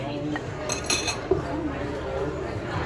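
Cutlery scrapes and taps on a plate during a steak dinner, with a few light clinks over a low room hum, close and moderately quiet.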